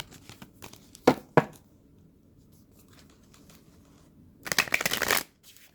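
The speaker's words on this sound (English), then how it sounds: "Just about through here with the shuffling." Oracle cards are shuffled by hand in short riffling bursts: two quick crisp flurries early, a quiet pause, then a longer louder run of shuffling near the end, with no talk.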